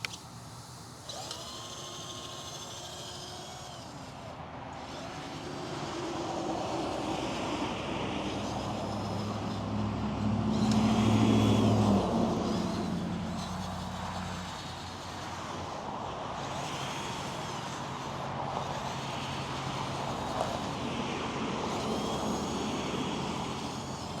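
Volvo FMX RC dump truck, a Double E Hobby model, with its motor running in high gear: a steady electric whine and hum that swells and eases over about twenty seconds, close by and with no talking.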